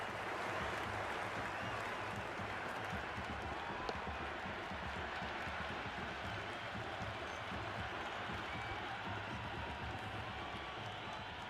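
Crowd at a cricket match in the video game Cricket 26 roars and applauds in a dense, sustained wash of cheering and clapping, steady and full throughout.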